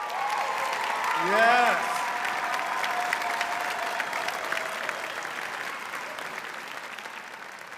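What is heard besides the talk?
audience applause for performers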